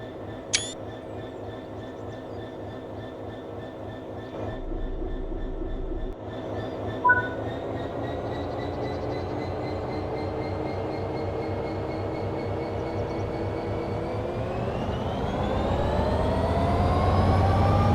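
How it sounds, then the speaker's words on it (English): A train in the video game Train Sim World 3 pulls away under throttle, its engine drone steady and then rising in pitch and loudness as it gathers speed, with a brief clank early on. "Apply some throttle to get the train moving."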